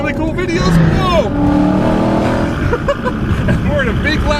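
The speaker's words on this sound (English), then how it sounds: "we're in a big, loud, scary Mustang today" A supercharged 2016 Ford Mustang GT revs and roars up close from inside the car, its engine pitch rising and falling in loud pulls while people talk and exclaim over it.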